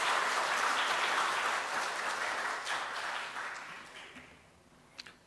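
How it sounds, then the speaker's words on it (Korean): A church congregation applauds in encouragement of its young people: dense, steady clapping from many hands that gradually fades out, ending with a single sharp knock. "우리 청년들에게 격려의 박수 한번 주시죠"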